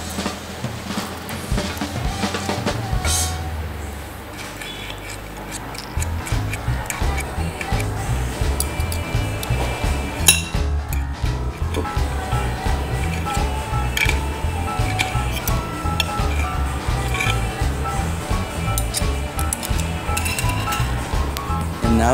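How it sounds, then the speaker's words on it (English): A knife and fork cut through a burger on a plate in a diner, producing continuous close clinks and scraping of metal against crockery, with steady busy clatter throughout. "Now we'll cut the burger."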